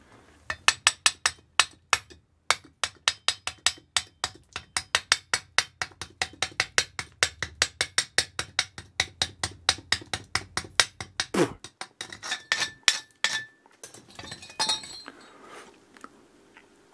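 Slag is chipped off a fresh arc weld made with a vintage Handyweld arc welder, a long run of rapid, sharp metallic taps close up, followed by a few scattered louder knocks and scraping.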